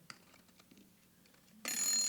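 A kitchen-style timer alarm suddenly starts ringing after a quiet stretch of faint room noise and small clicks, a bright continuous buzzing ring that carries on loud to the end.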